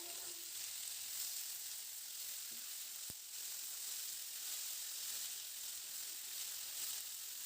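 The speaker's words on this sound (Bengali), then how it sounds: "এবার আলুটা দিয়ে মিনিট 2-3 মতো একটু ভাজা ভাজা করে নেব।" Soft, continuous sizzling of potatoes frying in a pan, steady hiss with a faint utensil tap midway and no talking.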